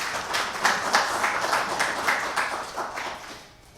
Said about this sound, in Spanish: Las recibimos con un aplauso